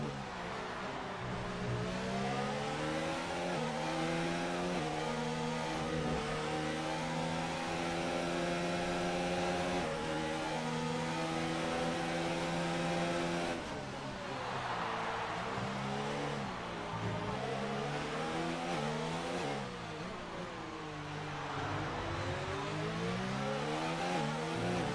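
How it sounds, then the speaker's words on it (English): A Ferrari race car engine in a racing video game during a round at Abu Dhabi, revving in long rising and falling sweeps with gear changes, loud and continuous, with no voices over it. "Nice Ferrari engine, Rafa."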